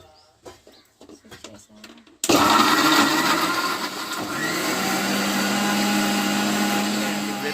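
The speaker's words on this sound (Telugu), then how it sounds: "వాటిని మిక్సీ చేసుకోవాలి ఫస్ట్ మిక్సీ పట్టుకోవాలి" A mixer grinder blending tomatoes, chillies and ginger starts abruptly and runs loudly with a steady whirring roar after a few seconds of quiet talking.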